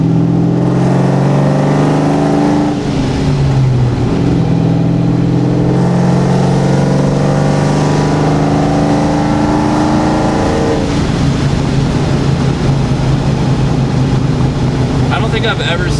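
A ProCharged 4.6-litre New Edge Mustang's exhaust roars loudly up close as it accelerates hard, climbing through several gear pulls with rising pitch and brief drops at shifts, with a voice talking over it at times.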